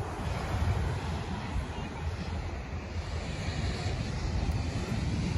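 Ocean waves break continuously on an open beach at Baker Beach in San Francisco, a steady loud wash of surf with heavy wind noise on the microphone and no distinct pauses.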